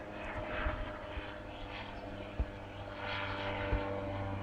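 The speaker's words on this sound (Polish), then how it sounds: "To wygląda jak mały śmigłowiec albo wiatrakowiec." An ultralight gyroplane passes overhead at night, its steady propeller drone and engine hum continuous and moderately distant, holding a fairly even level throughout.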